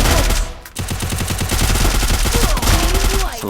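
Rapid bursts of gunfire from a battle royale video game firefight, a steady run of closely spaced shots filling most of the clip, loud and dense, with bits of game sound effects near the end.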